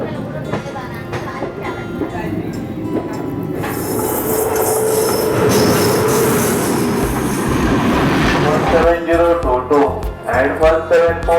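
Vasco da Gama–Tirupati Express passenger train running with banker locomotives attached, giving a loud steady rumble of wheels and carriages that swells in the middle, then rhythmic clacking over rail joints toward the end.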